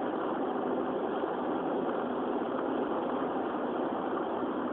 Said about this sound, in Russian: Автомобиль достаточно шумный.